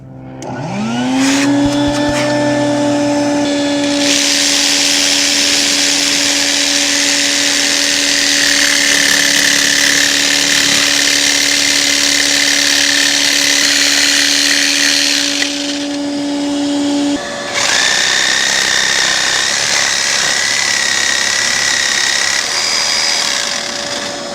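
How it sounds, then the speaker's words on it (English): A jigsaw cuts steadily through a boat's cockpit hatch for about twenty seconds, loud and close, with a shop vacuum droning underneath; the saw briefly pauses and then resumes cutting while the vacuum keeps running. "I'm going to go ahead and turn on my vacuum and my jigsaw, and I'm going to cut this"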